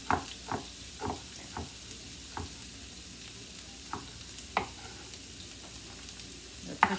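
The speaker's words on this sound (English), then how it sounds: "You want to hear that sizzle whizzle." A soft, steady sizzle of onions frying in olive oil, broken by spaced scraping taps of a utensil stirring the pan.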